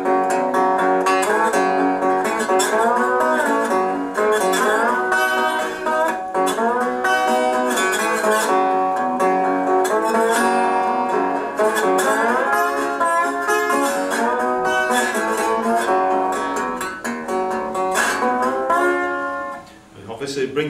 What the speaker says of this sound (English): this is the acoustic tone of the guitar.